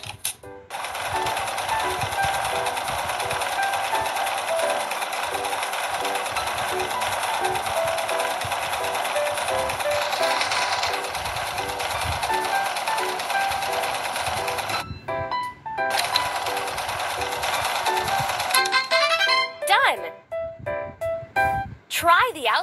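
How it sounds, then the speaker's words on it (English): A sewing machine stitches doll outfit pieces together in a steady, fast mechanical whirring run that stops briefly, resumes, then breaks into short bursts and clicks near the end. "Let's sew the pieces together."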